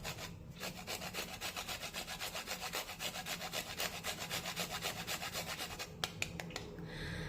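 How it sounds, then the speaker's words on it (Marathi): Whole nutmeg rubbed against a grater for a sweet wheat-flour and jaggery snack, a quick rhythmic scraping of repeated close rasping strokes, quiet and steady for several seconds with nobody speaking. "त्यानंतर यामध्ये मी थोडीशी जायफळ किसून टाकते"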